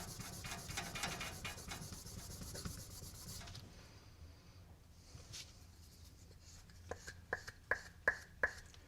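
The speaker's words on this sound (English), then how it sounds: "We just wet sanded it with 400 grit." Wet sanding with 400 grit sandpaper on the bottom of a Knight's Armament Company Stubby vertical foregrip, steady close rubbing strokes for several seconds, then a quieter stretch with a few sharp scraping strokes near the end.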